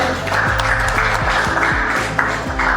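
Audience at a wedding and events fair in Mbuji-Mayi applauds to welcome a speaker, steady clapping heard over a repeating pulsing beat of background music.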